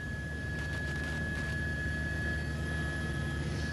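A news helicopter hovers above a disaster scene, its rotor and engine making a steady, continuous drone with a constant whine and no talk.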